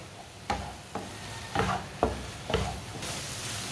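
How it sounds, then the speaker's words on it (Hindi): Eggs and tomatoes frying in a pan and stirred with a spatula, a soft sizzle under five sharp scraping strokes at a steady pace, close and fairly quiet, no talk. "अंडों को डाल के ना 3-4 मिनट के लिए पका लेना अच्छी तरह मिक्स करके।"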